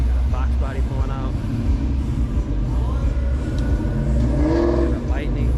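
A Ford Foxbody Mustang pulls out at a car meet, its engine rumbling and revving nearby amid other vehicle noise, with people talking over it throughout.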